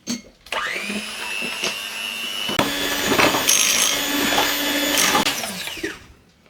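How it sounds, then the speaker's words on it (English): An electric hand mixer whisks oils, sugar, apple juice, baking soda, spices, orange juice and zest for Greek melomakarona cookies, a steady, close, high-pitched motor whine with a few knocks and pitch shifts, stopping at the end. "We are going to whisk the oils, the sugar, my apple juice, my baking soda, the spices, orange juice, and the zest."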